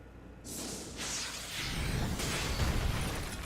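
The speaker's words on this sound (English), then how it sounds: "The loud crack of an explosion splits the air in front of me" An explosion effect in a dramatic reading, with several whooshing bursts that build into a deep rumbling boom, fairly loud and with no voice over it.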